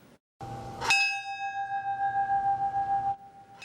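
A single bell struck once at a memorial bell ceremony outside a police department, a clear ringing tone with a slowly pulsing decay that lingers for a couple of seconds before it is damped.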